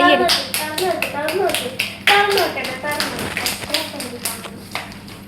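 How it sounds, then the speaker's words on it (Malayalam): A round of hand clapping rings out from a small group at a Christmas gathering, brisk and close, with voices talking over it. "കയ്യടി"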